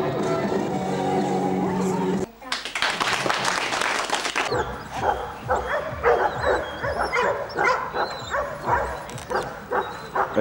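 Dogs yip and bark in short bursts at a dog show in Banya and Karlovo during the open class for males without pedigree papers, set against crowd noise and a loud wash of applause near the start.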